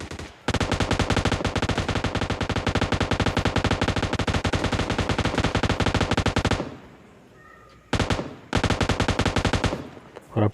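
An M249 light machine gun fires in the battle royale game PUBG Lite: a long unbroken burst of rapid, loud shots, then a pause and two shorter bursts close together.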